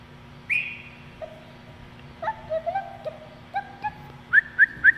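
Zoo birds calling in an enclosure: a series of clear, short whistled chirps and rising notes, some in quick repeated groups toward the end, heard fairly close over a low background hum.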